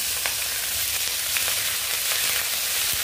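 Grated ginger hits hot oil in a wok, giving a steady, bright sizzle and crackle that fills the moment, close and continuous with no talking.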